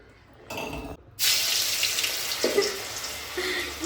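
Kebab pieces drop into hot oil in a home kitchen. A short burst of sizzle is followed by a loud, steady frying hiss that starts abruptly and continues close by.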